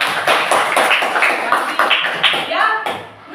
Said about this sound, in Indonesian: Tepuk tangan buat kelas 5.